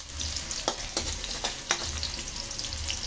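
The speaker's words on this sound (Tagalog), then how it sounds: "Pangis pala pag kumukulo ang tubig sa kawali." Steady crackling sizzle of water boiling in a pan while cooking adobo, with a few sharper pops and scrapes, continuous and fairly close, no voices.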